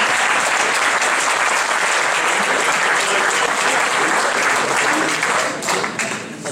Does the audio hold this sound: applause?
yes